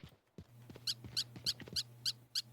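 A dog in the video game MIMESIS gives six short, high, squeaky yelps in a steady rhythm over a low electronic hum, with a few soft thumps early on.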